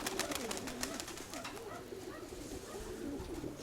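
A pigeon coos in repeated soft, low, rolling phrases close by, over a steady outdoor background hiss; the bird is a paired-up male in a loft.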